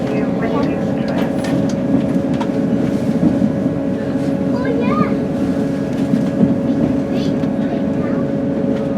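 Steady rumble of a train pulling into Blackpool station, with a constant low drone and a sustained tonal hum throughout, plus faint squeals and a passenger announcement voice over the top.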